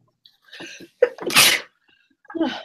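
A loud, close sneeze with a quick breathy intake before the explosive burst, followed by a short murmur.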